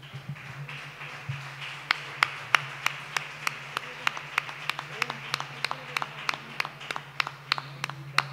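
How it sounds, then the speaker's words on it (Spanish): Hand claps at a flamenco singing performance with guitar in Huelva, Spain, sounding as sharp, fairly evenly spaced claps in a steady rhythm, close and distinct over a low background hum. "Un aplauso para ellos."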